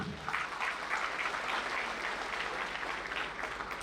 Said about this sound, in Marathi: रवींद्रजी चव्हाण साहेब यांच्यासाठी एक जोरदार टाळी